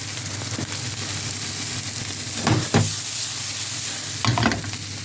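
Whitefish cooking down in a hot pan, a steady close sizzle broken by a few utensil scrapes and stirs, with no voices.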